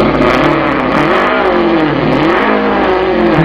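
A voice imitates a car engine revving, giving a loud, continuous buzzing drone that rises and falls in pitch like an engine climbing through revs and easing off, with no pauses throughout.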